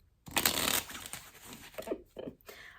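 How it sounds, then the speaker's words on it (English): A deck of cards being shuffled up close, a dense riffling burst followed by several shorter flicks and snaps, with some speech in the background. "so I've shuffled these enough."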